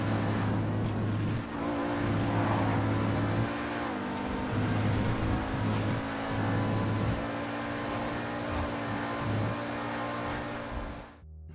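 A car engine in GTA Online drones steadily and loudly, its pitch stepping up and down through gear changes as it accelerates and eases off, then cuts out abruptly at the end.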